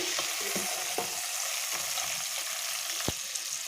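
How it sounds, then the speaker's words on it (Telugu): Cluster bean (gokarakaya) pieces fry in a pan with tempering, a steady close sizzle under irregular scraping stirs, with a louder clack of the spoon near the end. "ఈ ముక్కల్ని బాగా ఫ్రై చేసుకోవాలి. మధ్య మధ్యలో కలుపుకుంటూ ఫ్రై చేసుకోవాలి."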